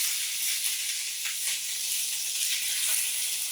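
Salmon fillet sizzling and hissing in a hot cast iron skillet, a steady close crackling hiss with a few brighter spits, heard alone without talk.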